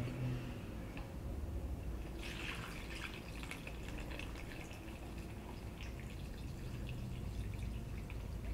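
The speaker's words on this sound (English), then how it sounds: "our brine is cooled now, and so we're going to add it to" Cooled brine is poured over hydroponic Chinese mustard greens in a container, giving a soft continuous trickle with scattered drips and splashes, fairly quiet and close.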